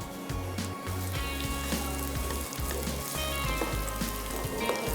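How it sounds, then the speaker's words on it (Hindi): Onions sizzling steadily in a hot pan for a beef tikka boti rice dish, with a constant soft crackling hiss and small bubbling pops throughout, no voices. "बस प्याज आपकी थोड़ी सी सॉफ्ट हो जाए, हल्का सा कलर आ जाए"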